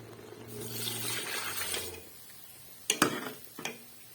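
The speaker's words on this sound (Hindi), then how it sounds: "तो मैं इसमें आटे को जो मिक्स करूंगी, साथ में पानी वो ऐड करूंगी इसमें।" Water trickles and splashes into a bowl of flour for nihari for a couple of seconds, followed by a few soft clinks and taps, close by and quiet.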